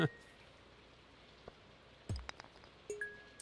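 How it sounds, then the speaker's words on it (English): Soft, steady rain hisses quietly in the Stardew Valley 1.6 farming game, broken by a few brief, bright game sound effects and chimes. "Honestly, I don't mind the rain."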